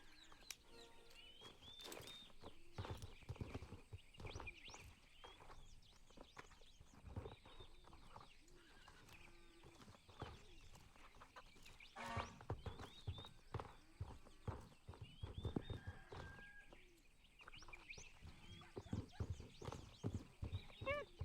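Rapid clip-clopping horse hooves in a video game patter in quick rhythmic bursts alongside occasional whinnies and faint bird calls, fairly quiet overall.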